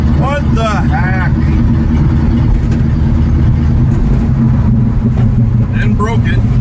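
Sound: 1968 Oldsmobile 442 car engine running

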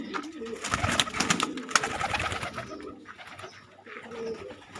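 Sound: pigeons cooing, Kante Kash breed

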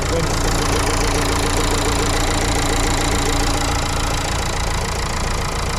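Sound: Dacia Stepway car engine idling

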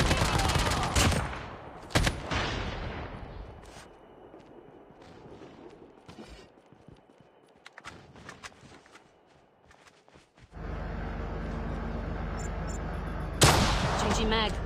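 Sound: gunfire in the video game Call of Duty Mobile

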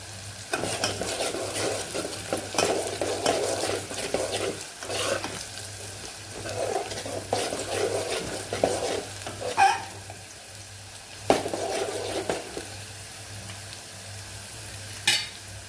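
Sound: onions sautéing and being stirred in a pan

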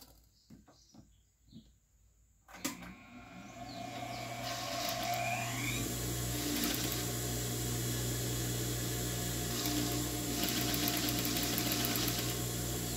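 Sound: sewing machine stitching rickrack trim onto dish towel

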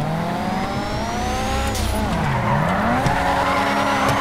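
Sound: car sliding with tire squeal in GTA 5 video game

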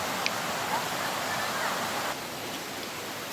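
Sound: waterfall on a stream at Ghonsari Sapatwadi

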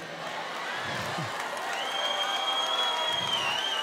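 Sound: concert audience applause and cheering

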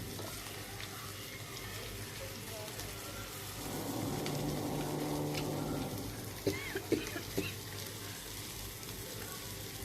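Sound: fish curry (meen kuzhambu) boiling in a pot

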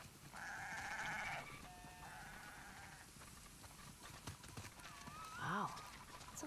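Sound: sheep flock in a video game

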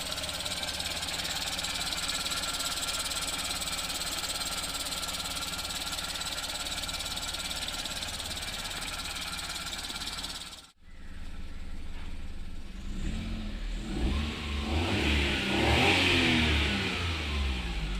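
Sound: car engine cold start after a week, loose fan belt noise

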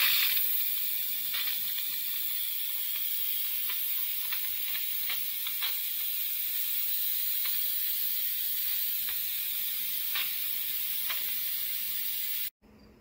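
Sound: pressure cooker releasing steam

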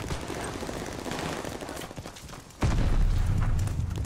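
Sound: gunfire from a video game (The Umbrella Academy weapon)

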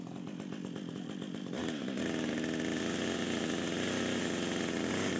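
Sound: chainsaw cutting wood

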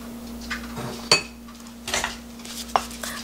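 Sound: spoon mixing bean powder with salt in bowl

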